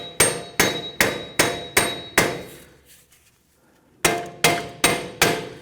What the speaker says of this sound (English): sometimes you can go ahead and use your hammer and just work the hub.